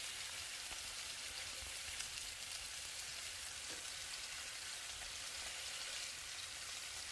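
Meat browning in a 14-inch skillet for birria tacos, giving a steady, even sizzle and hiss that holds at one level throughout, close by and continuous with no talking.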